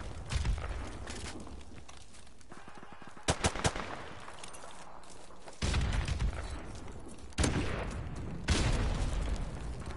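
Gunfire in the online shooter Modern Warfare Remastered, with several loud broadband bursts and sharp cracks separated by quieter stretches of distant game ambience and faint shots.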